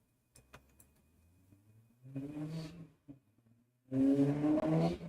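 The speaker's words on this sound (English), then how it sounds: "you can hear that car in the back?" A car passes outside an open window, its engine swelling twice in loud rising hums that build and cut off, with a few quiet taps before it.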